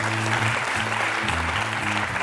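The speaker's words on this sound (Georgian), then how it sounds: "კიდევ ერთხელ მხურვალი აპლოდისმენტები მერფის კანონს." Studio audience applause on a Georgian television book quiz show: a steady, dense wash of clapping that fills the whole moment over soft background music.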